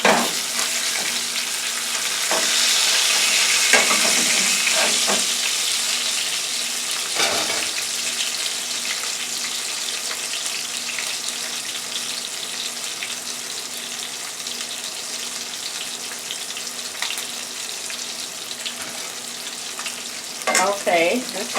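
Porgy fish fries in a thin layer of oil coating the bottom of a pan, producing a continuous close crackling sizzle that holds steady for the whole stretch, with a few short clinks and scrapes of utensils.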